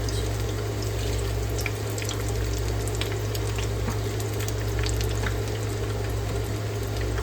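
Venetian carnival fritole, small dough fritters, frying afloat in deep grease: a steady, loud bubbling sizzle with a constant hiss, unbroken and with no voice.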